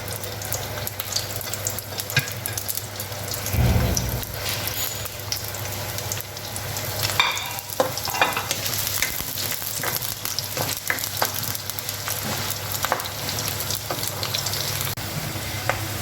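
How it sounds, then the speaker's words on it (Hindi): Onions browning in about a cup of hot oil give a steady, close, dense sizzle and crackle throughout, with a few brief stirring bumps and no voices. "और प्याज को ब्राउन करेंगे हम"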